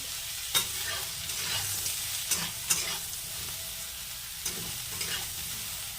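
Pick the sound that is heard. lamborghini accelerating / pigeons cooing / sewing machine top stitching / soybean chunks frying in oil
soybean chunks frying in oil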